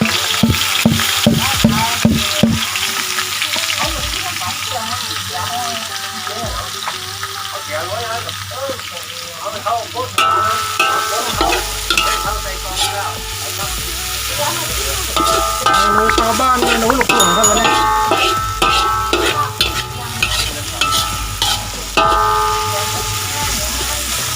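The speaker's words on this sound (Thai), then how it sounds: "เราพริกแกงทั้งหมดครับลงไปคั่วกันครับ" Curry paste for a sweet taro curry is stir-fried in a pan. Quick, rhythmic scraping and clatter of a spatula run over a loud, continuous sizzle that grows busier partway through.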